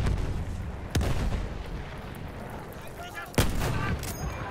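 Loud blasts from bombs dropped by a plane in the Battlefield 1 video game, with two sharp booming impacts about two seconds apart over constant gunfire and battle noise.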